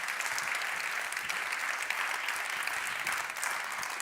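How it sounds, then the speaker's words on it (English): Steady audience applause fills the room at the close of a panel discussion on development policy and coloniality, a dense, continuous patter of many hands clapping at even loudness throughout. "So you just go on with applause,"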